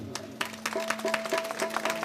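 Scattered clapping from a crowd at a Gujarati garba devotional performance for Mogal Ma, irregular claps building over a steady musical drone with a sustained tone.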